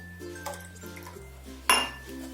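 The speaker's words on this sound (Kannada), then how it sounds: "ಸಕ್ಕರೆ ಮತ್ತು ಚಹಾ ಪುಡಿನ ಹಾಕೊಳ್ತಾ ಇದ್ದೀನಿ." Sugar and tea powder go into a pot for tandoori chai: a few soft spoon taps, then one sharp metallic clink of spoon against the pot, close and alone with steady kitchen hum beneath.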